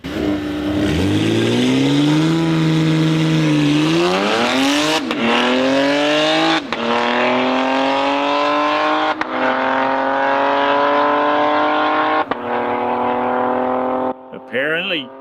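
A BMW M3 Touring and a Porsche 911 Turbo S drag race, engines roaring loudly as they rev up and climb through rising gear changes with brief shift breaks, close and continuous throughout.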